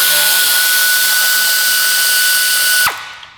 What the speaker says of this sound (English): I'm going to use an air ratchet